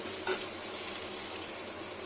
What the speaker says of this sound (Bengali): বেশিক্ষণ ভালো ভাজতে হয় না এটা সিম ভাজাটা।